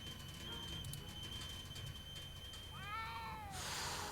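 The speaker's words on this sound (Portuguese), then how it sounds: "eu ouvi o gato, mas cadê esse gato?" A cat meows in Back to the Future: The Game, a short series of rising and falling calls near the end, heard over a steady background of game ambience and music.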